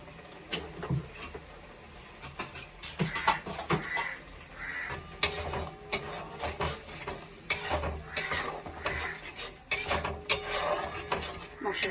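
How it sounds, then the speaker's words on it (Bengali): Spices being sautéed with coriander leaves in a pan while cooking a brinjal dish: repeated scraping and clinking of a spatula against the metal pan in irregular bursts, moderately close, with no talk. "মশলাগুলোকে ভালো করে ধনেপাতার সঙ্গে একটু কষিয়ে নিলাম।"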